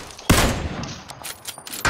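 Gunfire in the battle game PUBG: a sudden loud burst of shots followed by a ragged string of further sharp reports and crackling, ending with another close blast.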